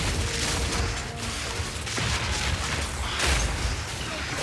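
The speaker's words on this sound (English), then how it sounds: "What we can do is just throw grenades in there." Grenades exploding in the action RPG Path of Exile 2, a dense, continuous wash of booms and crunching blasts layered over busy game noise, loud and sustained with no clear gaps.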